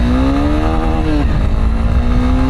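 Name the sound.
Honda NX200 motorcycle pulling away and accelerating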